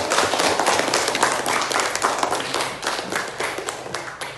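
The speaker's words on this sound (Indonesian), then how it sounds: "minta tepuk tangan untuk kelompok 1" Classroom clapping for a student group, a small crowd of hands beating quickly and unevenly, loud at first and thinning slightly toward the end.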